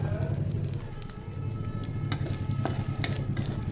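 Black cumin and dried red chillies sizzle in hot oil for a pumpkin and prawn curry, a steady close frying crackle with small pops and spits throughout and no talking.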